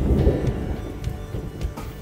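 Low rumbling thunder from a passing thunderstorm over an outdoor worksite, a steady deep roll with soft rain-like patter, fairly loud and continuous throughout with no talking.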